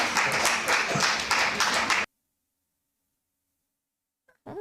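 A crowd claps and applauds for about two seconds, dense and close, then cuts to silence, with a brief voice near the end.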